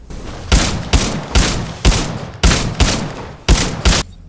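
Rapid bursts of gunfire and explosive blasts from Titanfall 2 combat, about nine sharp loud shots spaced unevenly in quick succession, each with a short rumbling tail.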